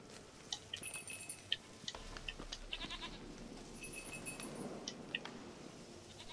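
Goat bleating in The Witcher video game, several short, fairly faint bleats scattered across a quiet outdoor scene with light clinking in the background.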